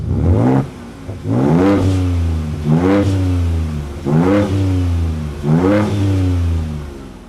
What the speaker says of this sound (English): then you can also change the modes of your exhaust